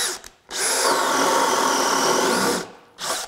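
A DeWalt DCD800/DCD805 compact 20V drill driver on a PowerStack battery spins up into a steady, loud motor whine for about two seconds, then stops, followed by a brief second burst.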